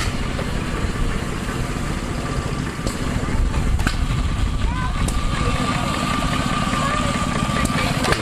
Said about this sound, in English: engine running, hitting it.